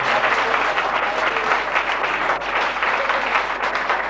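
A church congregation claps during a service at a church opening, dense continuous applause close and loud for the whole stretch without a break.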